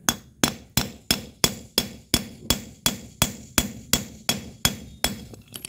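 Steady metallic hammer blows strike a screwdriver used as a drift to drive out a swingarm bushing on a Honda CB150X motorcycle, about sixteen sharp, evenly spaced close knocks in a row with no talking.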